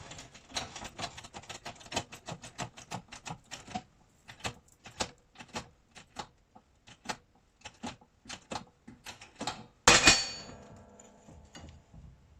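A Lada Niva suspension part has its polyurethane bush pressed out. Dense rapid metallic tapping and clicking come close and loud, thinning into sparser ticks, then a sharp loud crack and a short ringing decay near the end.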